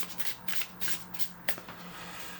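Soft papery rustles and light slaps of tarot cards being shuffled overhand by hand, several quick passes in a quiet room.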